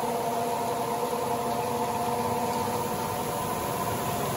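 Two spin dryers, a Colormaq and an Arno, spinning up, a continuous loud motor whir with steady humming tones and broadband rushing noise, even and unbroken throughout.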